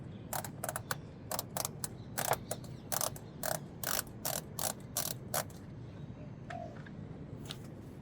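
A ratchet clicks in a fast series of sharp, rhythmic ticks while unscrewing a Volvo XC90 fog light, fairly close, then slows to a few scattered clicks.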